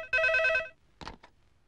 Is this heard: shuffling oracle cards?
no